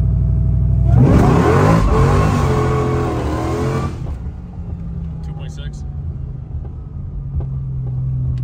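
An all-wheel-drive Chrysler 300 fitted with a Demon 170 engine launches hard from a standstill, the close engine rising in a loud roaring rev for a few seconds before backing off to a lower rumble.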